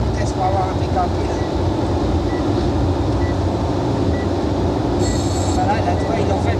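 A TGV high-speed train runs at 260 km/h across the Alsace plain in January 1980, a loud steady rumble and rattle heard from inside with a brief high squeal, voices murmuring faintly underneath.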